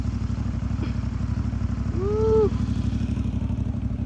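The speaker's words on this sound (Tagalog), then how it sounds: "Super reliable na itong mga motor na to." A motorcycle engine runs steadily and close by, a low even drone throughout, with a brief rising whistle partway through. Recorded on a touring ride around northern Luzon in the Philippines.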